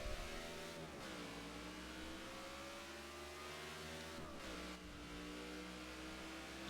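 Race cars roar and accelerate together at the green flag of a NASCAR Sprint Cup Series chase race in NASCAR '15, a loud, steady engine drone with rising pitch sweeps near the one-second and four-second marks.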